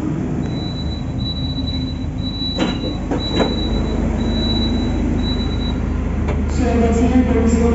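Indonesian KA Logawa economy-class passenger train slowing to a stop at Mojokerto station, with a steady rolling rumble, faint high brake squeal and a few clanks, heard from inside the carriage.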